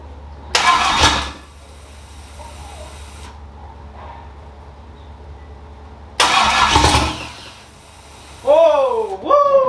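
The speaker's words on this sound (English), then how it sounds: "I don't think you spin it over fast enough, David." An old engine is cranked in two loud grinding bursts a few seconds apart over a low steady hum. It then catches with rising and falling revs near the end, while voices speak nearby.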